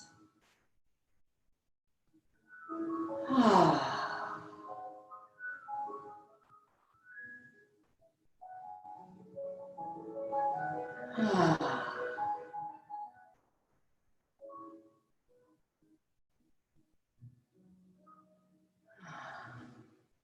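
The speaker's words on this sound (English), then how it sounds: "breathe in through your nose and out through gently parted lips. 3 audible breaths." Three slow, audible breaths drawn in through the nose and let out through gently parted lips, each long airy exhale a few seconds apart, close and clear with faint breathy sounds between them and no talk.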